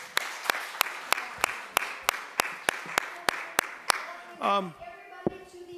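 An audience at a Democracy Day gathering claps in a steady, evenly spaced rhythm of sharp individual claps for several seconds before someone starts talking.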